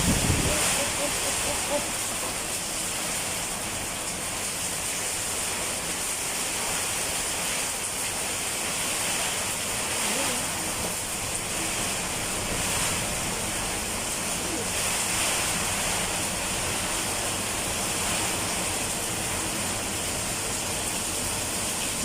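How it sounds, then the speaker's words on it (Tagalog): Steady roaring typhoon wind mixed with heavy rain in Sorsogon, Bicol, Philippines, a dense unbroken wash of noise that continues without pause. "Subalit yung hangin ay talagang malakas pa rin."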